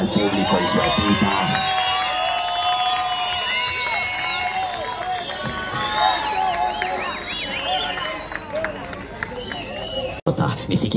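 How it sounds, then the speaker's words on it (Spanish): Crowd at a Colombian rap show cheering, whooping and shouting for the artists, loud lively hubbub with voices over it, fading briefly near the end. "Aplauso para todos los artistas y para el público"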